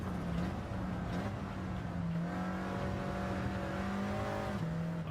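Steady, high-revving engine drone of a Mercedes-Benz AMG race car at speed on the Nürburgring in Gran Turismo 7, continuous and loud with a shifting whining tone.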